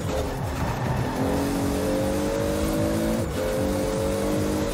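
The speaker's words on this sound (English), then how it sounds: "That put a dent in my Supra." Toyota Supra racing in the Forza video game, its engine droning loud and continuous with rising gear-change pitch sweeps and a brief dip partway through, no talking.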